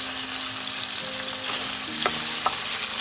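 Yellow onion frying in oil for pork adobo while being stirred, a continuous bright sizzle with a couple of faint scrapes of the spoon against the pan.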